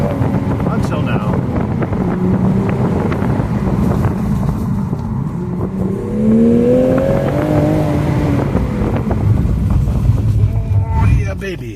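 A Toyota Supra Final Edition sports car with a limited-slip rear differential accelerating hard, a loud continuous engine roar rising in pitch through the gears, with wind buffeting and a voice talking over it.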